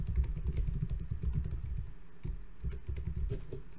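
Close, quiet typing on a computer keyboard while writing JavaScript code, a rapid uneven patter of key clicks with brief pauses.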